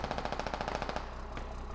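A machine gun lays down suppressing fire in a war video game, a rapid, even burst of shots at moderate distance for about a second, then fades into a quieter, rumbling background.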